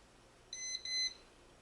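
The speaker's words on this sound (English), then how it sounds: "When voltage is detected, it shows a red light and it beeps" Non-contact electrical voltage tester beeping after detecting voltage: one short, clear electronic beep that cuts out briefly and then resumes for about half a second, sounding alone over quiet background hiss.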